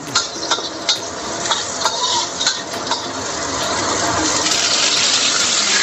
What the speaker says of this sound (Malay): Kita tumis bawang kita sehingga matang.